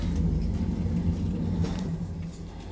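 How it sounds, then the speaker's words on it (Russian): A hotel elevator in Antalya descending to the first floor, giving a steady close low rumble and hum that eases slightly near the end, with no talking. "лифт. Едем на первый этаж."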